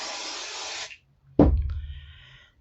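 An aerosol can sprays onto quilt fabric before batting goes down, a steady hiss lasting about a second, followed by a sharp thump and a brief ringing rattle.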